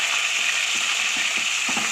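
Ginger garlic paste fries with onions and tomato in a pan for mushroom biryani, giving a dense, steady sizzle with a few soft stirring scrapes.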